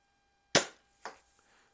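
A Daisy 188 air pistol fires pellets: two sharp, close snaps about half a second apart, each fading quickly, followed by a faint small click in a quiet room.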